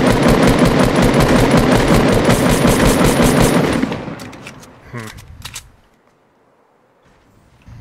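Rapid automatic gunfire in the Fortnite video game rattles loud and continuous for about four seconds, then breaks into a few scattered shots and fades to near silence.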